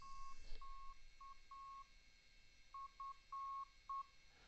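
Faint, thin tones come through a radio's audio output at low volume, a series of short and longer beeps at one pitch with brief gaps, over a quiet background hiss.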